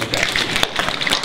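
A cupped hand drummed by the other hand imitates burning branches, giving rapid, irregular hollow pats and thumps, close and fairly loud, mixed with light tapping from other people.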